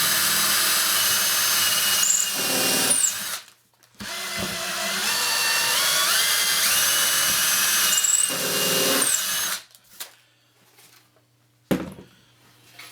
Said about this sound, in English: So let's go ahead and do our pilot hole.